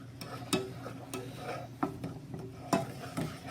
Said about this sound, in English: I am going to stir this constantly